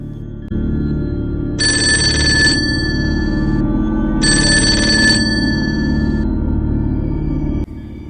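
A telephone rings at night in two loud, close bursts of electronic trilling separated by a short gap, over a steady low hum.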